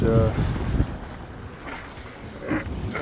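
A Beneteau sailboat under way on a reach in open water, with a loud, continuous rush of wind buffeting the microphone and swashing water around the hull, gusting stronger near the start and end.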